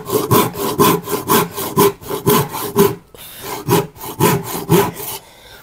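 A hand saw cuts through wood in steady back-and-forth strokes, a rasping rhythm that pauses briefly midway before resuming.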